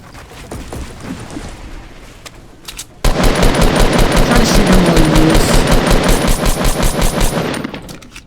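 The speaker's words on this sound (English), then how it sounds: "Now this guy's shooting at somebody else" Rapid automatic gunfire from a shootout in the Fortnite: Battle Royale video game, quieter and sparser at first, then a loud sustained burst of rattling shots that keeps going until the end.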